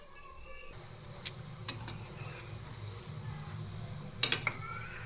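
Methi muthiya dumplings frying in oil, a quiet steady low sizzle with a few light utensil clicks and a brief cluster of metallic taps near the end.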